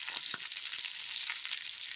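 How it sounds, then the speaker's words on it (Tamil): Kashmiri chilies, garlic and ginger frying together in a pan: a dense, continuous close sizzle with a couple of brief spatula scrapes, steady in level throughout. "எல்லாத்தையுமே ஒட்டுக்கா சேர்த்து வறுத்துக்கலாம்"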